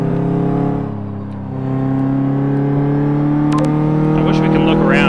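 A car engine from Car Mechanic Simulator 2015 drones steadily with strong harmonic tones, dipping briefly then rising in pitch as it accelerates, loud and continuous, with a voice speaking over it near the end.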